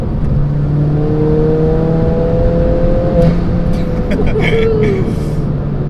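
A 310 bhp Ford Fiesta ST pulls hard in fourth gear, its engine droning steadily and loudly from inside the cabin for the whole stretch, with people talking over it.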